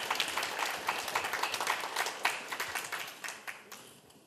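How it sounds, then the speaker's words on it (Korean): Audience applause at a Gyeongsangbuk-do forum panel discussion, a steady, dense burst of many hands clapping in a hall that holds fairly even for about four seconds and thins slightly toward the end. "박수 한번 크게 부탁드립니다"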